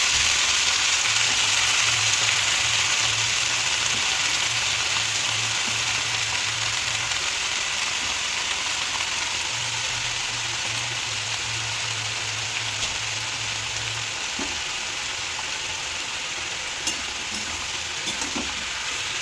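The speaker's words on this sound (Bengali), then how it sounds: "শাক ভাজাটা বসিয়ে দিচ্ছি" Kalmi greens (water spinach) fry in a pan with chilli tempering, giving a loud, even, rain-like sizzle that holds steady throughout, with a faint low hum in the background and occasional small clicks.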